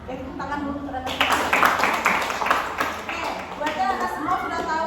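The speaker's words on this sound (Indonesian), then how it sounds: "Ya, tepuk tangan dulu" A small group in a CBT group counselling session breaks into clapping, a few seconds of scattered applause mixed with voices talking.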